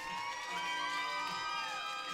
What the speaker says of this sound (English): this crowd is gone nuts for the Brotherhood